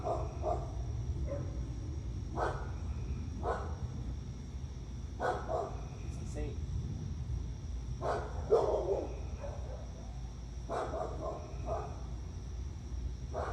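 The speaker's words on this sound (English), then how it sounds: "the dogs immediately, when the neighbors leave, they just start barking" Dogs bark in a neighboring yard outdoors, a scattered run of moderately distant barks over a steady insect-like background hum, with no talking.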